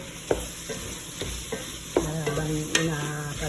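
Fried potato and carrots stirred into a sizzling pan with shrimp, a steady hiss of frying under a few sharp scraping strokes of the utensil, with no talking.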